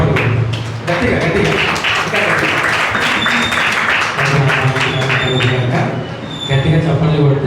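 A congregation at a Sunday church worship service claps loudly and steadily in a rhythmic beat, with voices and music carrying underneath throughout.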